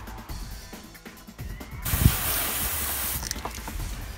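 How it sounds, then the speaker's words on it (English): A hose blasts water onto a car to rinse off leftover road tar residue. The hissing spray starts abruptly partway through, stays loud and close for over a second, then cuts back down. "Just the final step is to hose it down to get rid of any of the leftover residue. I'm just gonna spray down whatever is left over."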